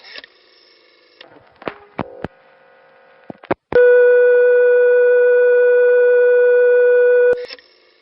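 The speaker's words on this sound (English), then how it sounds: "In hearing that second dial tone" After a few short clicks and blips, a second dial tone from the 660 telephone test line plays as a loud, steady, unbroken hum for about three and a half seconds, then cuts off.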